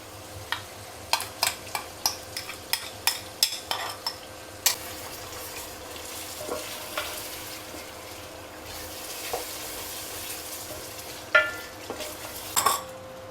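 Goat liver kaleji cooking with onion and yogurt, a spoon scraping and clinking the pan in a quick run of sharp strokes, then a soft steady sizzle with occasional stirring knocks.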